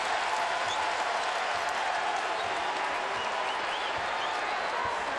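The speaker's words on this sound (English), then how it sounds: "Mitchell can't quiet the crowd." A basketball crowd roars continuously at a Louisville vs Virginia game, a dense, loud wall of cheering and applause that holds steady throughout.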